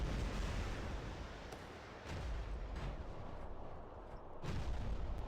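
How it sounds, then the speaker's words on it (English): Medium weapon firing rapidly in the War Robots game, a dense continuous barrage of booming shots with a few sharper bursts standing out, loud and steady throughout with no talk. "It's nice that this weapon fires quite fast."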